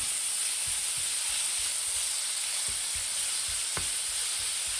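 Bacon rashers, about 600 grams, frying in a pan, a steady soft hiss with faint crackles and pops running throughout, with no talking.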